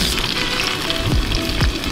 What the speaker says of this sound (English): You just let that sizzle and then in about a minute we'll flip it over and do the other side.